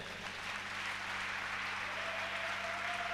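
A church congregation applauds the Lord during a sermon, a dense, steady wash of clapping filling the whole stretch with a faint tone humming underneath.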